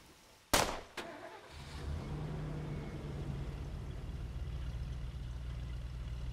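A truck engine in the video game State of Decay cranks with a sharp click and clatter, catches, then settles into a steady, moderately loud rumbling idle that continues for several seconds.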